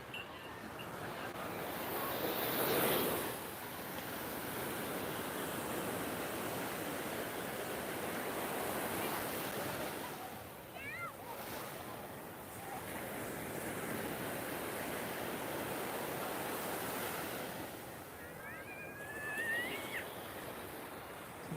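Waves wash onto Nha Trang beach in Vietnam in a steady, even roar, with a fuller surge near the start and a faint chirping sound at moments further on.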